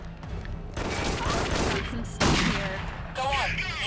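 Gunfire in the shooter game Dead Effect 2: a sustained burst of loud shots with sharp impact cracks around the middle, over dense game noise while someone talks throughout.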